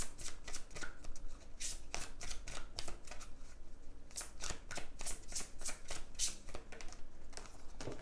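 Tarot or oracle cards shuffled for a monthly reading, a quick run of crisp, rhythmic flutters and riffles repeating close by, with no talk over them.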